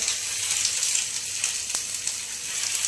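Food frying in a pan on a gas stove, a steady hiss and crackle that holds evenly throughout with one brief sharper pop near the middle, no voices.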